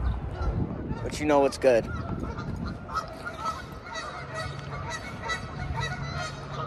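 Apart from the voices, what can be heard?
Canada goose honking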